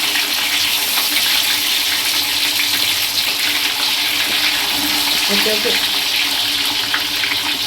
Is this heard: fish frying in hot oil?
yes